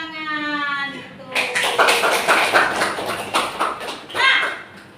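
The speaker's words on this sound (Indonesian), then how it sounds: "nah, tepuk tangan gitu." A classroom full of hands clapping together, a dense patter of many claps lasting a few seconds after a teacher's voice, fading out as talking resumes.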